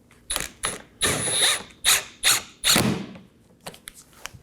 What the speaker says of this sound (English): move along to the mud flap and corner of the bumper to install our 7mm bolts. Again, just snug this down.